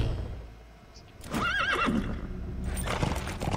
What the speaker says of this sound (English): me voy con el caballo